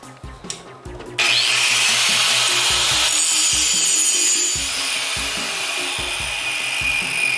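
A few short rasping strokes, then a continuous loud, close grinding cut through hardened steel for a trailer hitch lock, steady and harsh with a rhythmic low chatter underneath.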